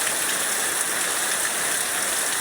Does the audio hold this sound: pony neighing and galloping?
no